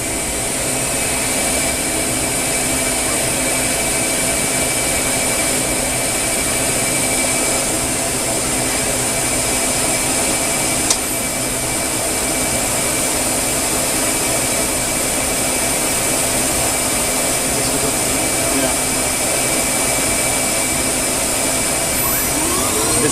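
A Star SR20RIII CNC Swiss lathe spindle spinning at 8,000 RPM, heard from a few inches away: a loud, steady high-pitched whine with a broad mechanical hiss, continuous and unchanging throughout with no talking.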